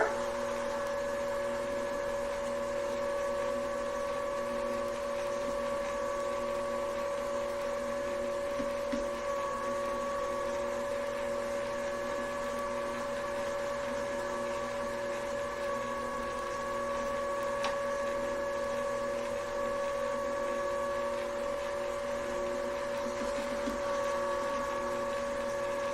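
A Princess House electric stand mixer runs steadily at a constant speed, kneading pizza dough as flour is worked in, producing a continuous motor hum with a mechanical whir that holds unchanged throughout.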